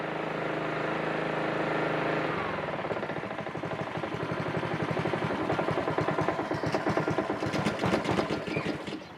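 A lawn mower engine just out of winter storage runs with a faint, uneven, hesitant pulse that grows into a stuttering, choppy rhythm toward the end.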